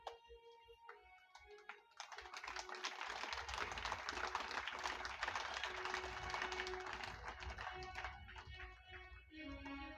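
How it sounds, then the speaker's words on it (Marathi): A crowd at a Marathi devotional discourse claps hands together, a dense, rapid patter that builds after a couple of seconds and holds for several more, with faint musical tones near the start. "आणि जोरात टाळी वाजवा बरं एकदा आता"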